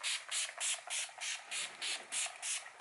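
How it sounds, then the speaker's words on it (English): About nine short hissing bursts of Urban Decay All Nighter setting spray on a face in a steady rhythm, close by and fairly quiet. "I'm going to go ahead and set my face with the Urban Decay All Nighter Setting Spray"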